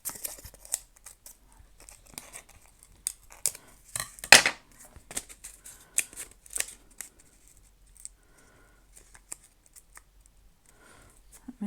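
Scissors snipping through art journal paper during trimming, a run of short crisp cuts and rustles close by, with one louder snip near the middle and quieter paper handling toward the end.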